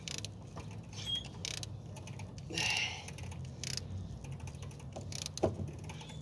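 Rapid, faint mechanical clicking with a slight creak, close by, as a filter is twisted tight by hand; no voices.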